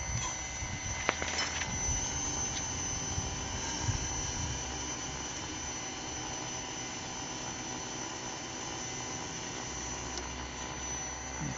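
A fuel pump and fuel injector run on a test bench with a constant high-pitched whine and hiss, plus a few brief clicks early on, steady and close with no talk.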